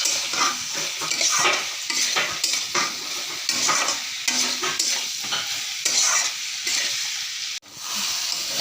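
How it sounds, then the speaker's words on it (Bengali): Boiled potato and eggplant stirred in a frying pan, with busy, repeated spatula scrapes and clatter over a constant sizzle, loud and close with no voices. "ভালো করে একটু নাড়াচাড়া করে নেব 2 মিনিট।"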